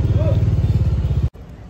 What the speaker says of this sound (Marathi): आता इथे बाईक पार्क करायला चाललो आहे.